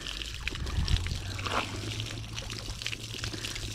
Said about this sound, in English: I got the water hose